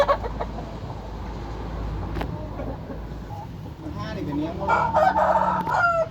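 A rooster crows partway through, a drawn-out call under someone talking over steady outdoor background noise.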